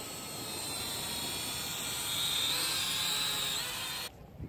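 A small drone flies near a beach while people are sailing. It makes a steady, close, high-pitched whine and buzz that holds level for several seconds and then cuts off abruptly.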